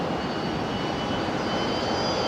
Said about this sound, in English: I can hear another Fokker on startup.